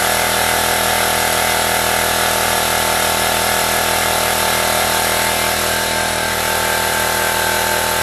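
Air compressor running steadily and loudly close by in a garage during a 2005 Dodge Neon driveshaft install, a continuous droning motor with no pauses.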